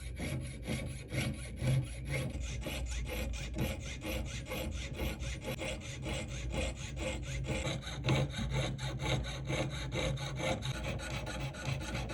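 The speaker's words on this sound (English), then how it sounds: "we'll go in from the top at an angle with the saw blade, and then we'll cut the seat for the actual stone" A jeweler's saw blade cuts a metal bezel for an emerald-cut stone on a 3-stone ring, producing a rapid, even rasping stroke rhythm that repeats steadily for several seconds, close up with no talking.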